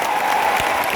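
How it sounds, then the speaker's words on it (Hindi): Audience applause at an Asclepius Wellness (AWPL) gathering, a steady wash of clapping from a crowd filling the whole moment, fairly loud and continuous. "तालियां हो जाए।"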